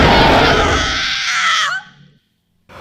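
A grandma lets out a loud, high, sustained scream in a horror story, strong for about a second and a half, then it trails off, a brief silence follows, and a short burst of noise returns at the end.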